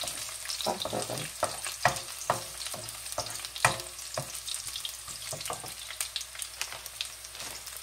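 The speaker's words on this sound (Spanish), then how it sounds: "Sofreímos el ajo." Garlic sizzles in a pan, likely in butter, with repeated sharp stirring scrapes close by. A brief bit of talk comes over the sizzle.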